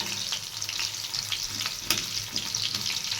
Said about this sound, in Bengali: কড়াইয়ে আমার তেল গরম হয়ে গেছে তেলের মধ্যে দিয়ে দেবো আমি কোচানো পেঁয়াজ